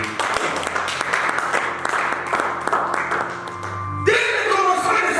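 A congregation at an evangelistic seminar claps in a steady rhythm, mixed with a voice and sustained tones, ending in a brighter, louder swell.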